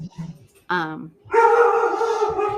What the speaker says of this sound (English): someone's dog is being protective